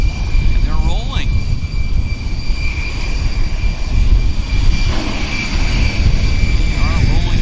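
A JetBlue Airways jet rolls for takeoff at Vancouver YVR airport, a steady broadband engine roar building and holding throughout, with a faint voice talking over it.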